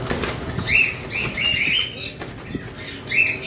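Large pigeons' wings flap in several quick, close bursts, fluttering and then pausing between flurries.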